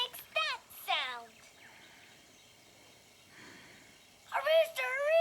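A cartoon rooster crows in two bursts, a short wavering call near the start and a longer, bright, warbling crow at the end, separated by near silence.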